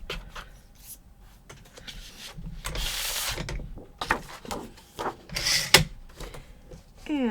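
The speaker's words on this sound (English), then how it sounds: "Let's trim the branding strip off of the cardstock." Trimming a branding strip off cardstock with a paper trimmer: close, irregular clicks, rubs and sliding blade scrapes, with a couple of brief sharp swipes as the cut is made.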